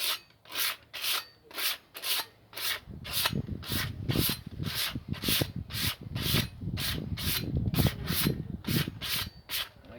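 Sandpaper scrubs rhythmically over the steel of an axe head to strip surface rust, steady back-and-forth strokes repeating about twice a second, close and dry, growing heavier and denser partway through.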